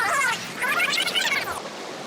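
Creek water rushing steadily near a waterfall on a Southern California trout stream, a broad hiss that swells and eases slightly across the stretch, with no voices.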